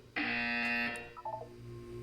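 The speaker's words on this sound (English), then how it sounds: "You will hear a buzzer." The buzzer in the video game Portal 2 sounds once as a loud, harsh electronic tone lasting under a second, then fades into quieter blips and a low hum.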